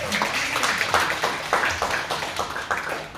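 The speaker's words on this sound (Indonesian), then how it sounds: "Tepuk tangan buat Tuhan kita itu, guys." Church congregation clapping in praise of God, a dense, steady patter of many hands with rhythmic surges, moderately loud and close, with faint voices mixed in.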